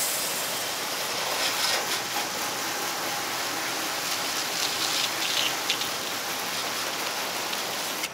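A leaking garden water hose sprays simulated rain, a steady, loud hiss of falling droplets spattering on a surface without break for the whole stretch.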